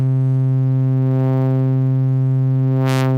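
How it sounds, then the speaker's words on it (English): A steady synthesized tone with a soft, hollow buzz, sustained evenly and loud throughout, with a brief noisy click near the end. "we basically get what sounds like a triangle wave"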